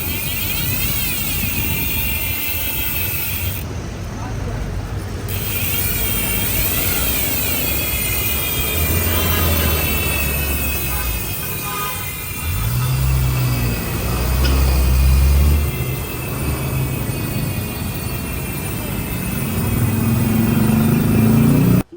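A Pops Pro 1 version 5 project motorcycle runs loud and steady at close range, its engine rumbling and swelling in a few brief revs, with no talking over it.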